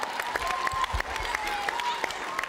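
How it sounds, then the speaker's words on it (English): Audience applause at a climate justice panel event, moderate and somewhat distant clapping running under a sustained tonal hum and faint background chatter, fairly brief. "Let's give them a round of applause."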